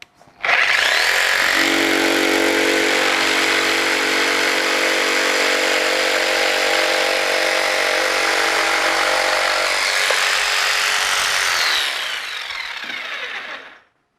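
A Festool PS300 jigsaw cuts from above through a workpiece, making a loud, steady, buzzing saw whine that starts abruptly, runs continuously for about twelve seconds, then winds down and stops.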